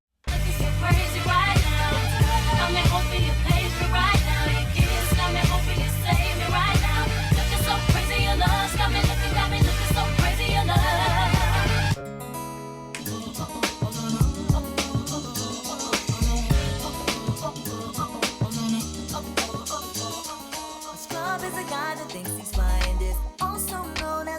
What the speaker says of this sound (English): slamming that track in, letting it breathe for a second and letting the audience recognize it